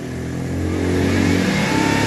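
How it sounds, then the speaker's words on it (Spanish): A Ford engine holds a steady 2000 rpm during injector cleaning, a continuous loud mid-pitched hum with a slight rise in level, alone with no talk. "estamos arrancando ahorita. Mantén las 2000 revoluciones."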